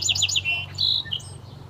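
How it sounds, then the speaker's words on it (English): A small bird lands nearby and gives a quick series of bright, close chirps and tweets, loud and clear with no talking. "there's a bird that just landed"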